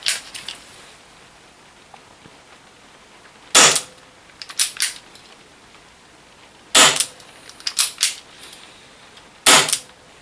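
Chiappa Rhino 50DS CO2 BB revolver on a fresh CO2 bulb, firing 0.2 gram BBs single action: sharp, loud cracks spaced a few seconds apart, some in quick doubles with short impact snaps, no talking.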